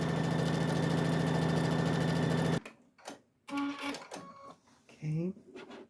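A sewing machine stitches fabric pieces for a 4th of July placemat, running steadily for about two and a half seconds, then stopping and starting in a few shorter bursts.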